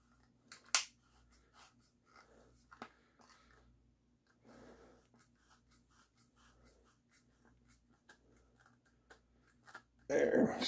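A power cap for a Pistelle X68 150 Joule SSD airgun being screwed back into the gun, heard as sparse, quiet close-up clicks and scrapes of metal handling, ending in a louder burst of rustling.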